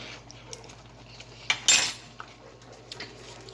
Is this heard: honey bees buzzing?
no